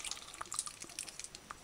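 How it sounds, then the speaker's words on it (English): Tap water pouring into a bowl of soaking butter beans, a faint, steady trickle with small drips and splashes, no talk. "just remove this water now and then pour some fresh water on it and soak it"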